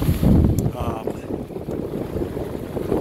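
Strong wind of about 20 knots across a sailboat under reefed main in rough Johnstone Strait, a loud, blustery rush buffeting the microphone with water noise beneath, while a voice speaks over it.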